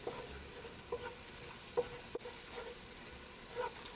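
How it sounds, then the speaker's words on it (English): Curry powder frying in oil on low heat, a steady soft sizzle with faint stirring scrapes and small crackles, close and alone. "If you put less oil when you're burning the curry, the curry go bitter"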